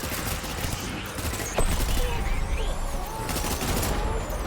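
Sustained gunfire in the video game Death Stranding, a dense fusillade of rapid shots with machine-gun bursts, loud and continuous under a bit of background talk.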